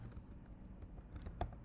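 Light, quick keystrokes on a computer keyboard tap out a short irregular burst, faint and close, with one slightly firmer key press near the end.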